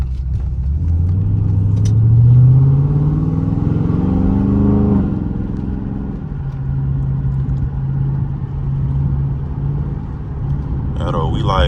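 A Dodge Charger Daytona 392 on a backroad accelerates with a deep, loud engine rumble that climbs in pitch through the gears, then settles into a steady drone, with people talking inside the car.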